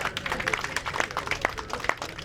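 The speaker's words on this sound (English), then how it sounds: "can we give a round of applause for these folks here?" Applause from a crowd at a Laborfest union rally in Racine/Kenosha, a scattered steady patter of clapping hands at moderate distance, lasting a couple of seconds with a little murmuring.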